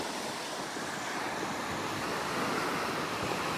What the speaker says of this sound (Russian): Послушайте шум одесской волны, черноморской волны.